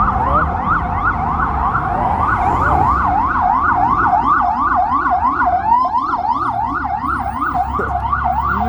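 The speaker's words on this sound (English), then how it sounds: "No one stopped for the ambulance." An ambulance siren wails loudly through city traffic, its rapid rising-and-falling yelp cycling steadily and close over the rumble of vehicles, with no talking.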